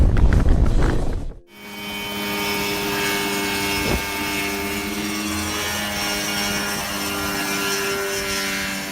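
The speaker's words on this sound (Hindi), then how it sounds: "ये इंसान वाकई एक होममेड हेलीकॉप्टर से सनसेट का मजा लेता है।" A homemade Mosquito helicopter with a Rotax 503 engine flies at sunset, its loud steady engine and rotor drone taking over after a brief burst of other noise and holding evenly to the end.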